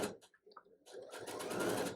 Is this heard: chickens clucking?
no